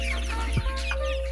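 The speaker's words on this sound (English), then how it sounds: "They are no more chicks, but they are chicken at the moment." Chickens on a poultry farm cluck briefly, a couple of short soft calls close by over a constant low mechanical hum.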